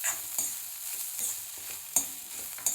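Spice-roasted black chickpeas sizzle in a pan with a thin, hissy sizzle and occasional sharp stirring scrapes, quiet and close, with no speech.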